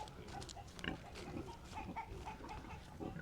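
Pigs grunt and oink on a farm after a hurricane, a scattering of low snuffling grunts and a few sharper squeaky calls, fairly faint and continuous, with no talk.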